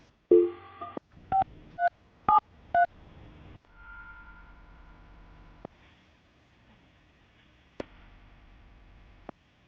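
A phone call being placed, with a quick series of separate keypad tones near the start, then a quiet line with a few faint clicks.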